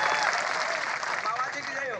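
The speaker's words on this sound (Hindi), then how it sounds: "तो जीतू भाई के लिए जोरदार ताली।" A crowd claps steadily for Jitu bhai at a community gathering, a dense patter of applause mixed with voices talking over it.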